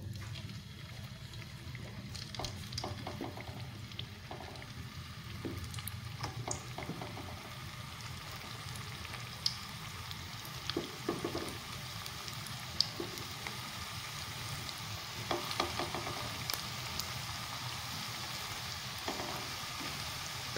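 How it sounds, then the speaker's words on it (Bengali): Potato balls deep frying one by one in plenty of hot white oil in a wok over low to medium heat, a steady soft sizzle and bubbling with scattered small pops and clinks throughout. "তেলটা গরম হয়ে গেছে, আমি একে একে বলগুলো দিয়ে দিব।"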